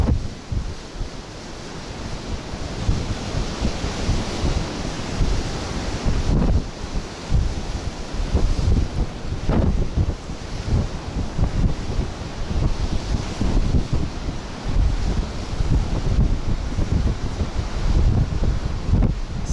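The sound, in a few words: strong wind blowing at the harbor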